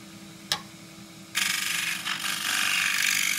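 A gouge cuts a cross-grain forest sheoak box on a wood lathe: a sharp tick, then a steady, close, rasping hiss of the tool riding the spinning wood, with no talk.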